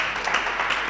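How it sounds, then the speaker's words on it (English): A church congregation gives a clap offering during a leadership teaching session, producing a dense, steady burst of many hands clapping together, fairly loud and close, with no talking over it. "Can we give a clap offering?"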